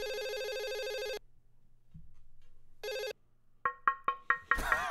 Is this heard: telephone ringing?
yes